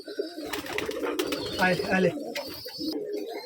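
Close, muffled cooing from Rajshahi pigeons, including a female bird, rolls on in uneven bursts amid rustling loft noise, with no voices.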